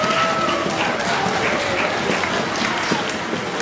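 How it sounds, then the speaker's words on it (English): A concert audience at a middle and high school masquerade concert gives steady, full applause for the school administration, a dense wash of clapping throughout. "Could you give them a huge round of applause?"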